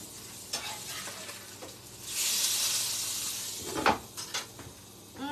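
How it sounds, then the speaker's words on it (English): Pan-seared salmon crackles in a hot skillet as it is flipped, a soft sizzle swelling midway, with a sharp clatter of the turner against the pan and light kitchen clinks around it. "All right, I'm gonna flip my salmon."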